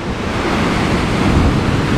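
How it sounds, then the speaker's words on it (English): Water waves washing against a shore outdoors make a loud, steady rushing surf, mixed with wind buffeting the microphone and no voices. "The water started to get more intense. The water started splashing up."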